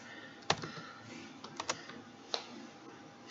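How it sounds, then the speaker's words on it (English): Typing on a computer keyboard, a few sparse, soft clicks and taps spread out over several seconds against quiet room noise, with no talking. "Typing."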